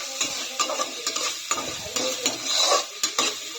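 Tomato and onion frying in a pan while a spoon stirs them, giving repeated scraping strokes over a steady sizzle, close and fairly loud with no talking.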